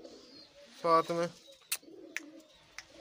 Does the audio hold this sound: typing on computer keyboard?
no